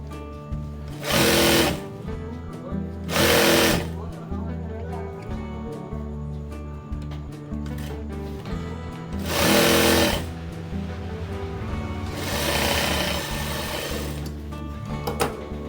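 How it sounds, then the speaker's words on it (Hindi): A sewing machine stitches the side seam of a long palazzo in four loud bursts of rapid whirring, separated by quieter pauses with faint handling sounds. "इसी तरीके से मैं इस साइड को सिलाई मार के ले लूंगी।"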